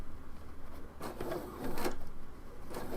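A sewing machine runs along a cut edge of fabric, giving a steady rapid mechanical whir that swells slightly midway and continues without pause.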